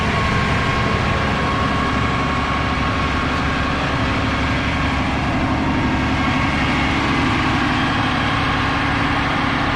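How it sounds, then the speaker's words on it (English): A sewer cleaning truck runs its engine and pump together, a loud, steady low mechanical drone with a constant hum. It stays close and unbroken throughout, with no talking. "So we can adjust the engine speed and the pump pressure and the hose reel speed."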